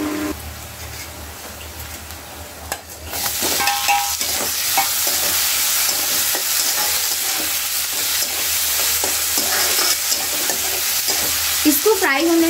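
Ingredients fry in a hot pan with a loud, close sizzle that surges after a few seconds, while a spoon stirs and scrapes through them repeatedly; no one speaks.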